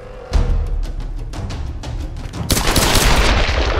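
Enemy machine gun fire in the video game Tomb Raider, a rapid stream of loud gunshots starting abruptly and continuing in quick bursts, intensifying into a denser, heavier volley near the end.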